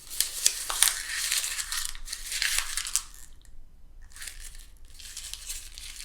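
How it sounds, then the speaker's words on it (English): A piece of paper crumpled by hand up close, with bursts of crackling and crinkling separated by a short pause, no talk. "We can crumple paper."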